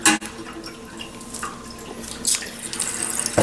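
Water from a kitchen faucet runs steadily down an unclogged sink drain, a close, continuous splashing gush with occasional louder surges and gurgles.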